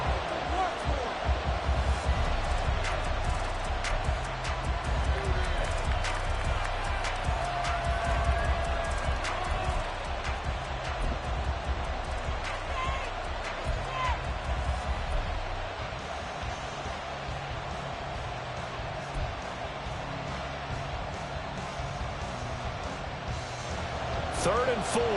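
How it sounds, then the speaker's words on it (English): Football stadium crowd at a Broncos game roaring steadily to urge on the defense on third down, a continuous dense wall of noise throughout, with a commentator talking over it. "this crowd urging on their defense. They're up and making noise"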